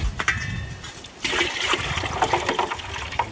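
Warm water poured from a saucepan into a bucket beside a sauna tent, a splashing, gurgling stream that runs for about two seconds after a brief clatter.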